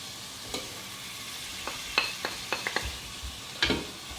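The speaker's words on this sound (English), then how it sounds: "Now it's mixed together. Mix together and let this cook." Tomato, turmeric, fenugreek and salt cooking in a pan for chicken vindaloo, with a soft continuous sizzle broken by a series of short scraping and tapping stirs, louder toward the end, close and with no talking.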